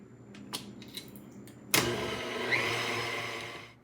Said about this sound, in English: We'll be whisking the mixture until we have stiff peaks.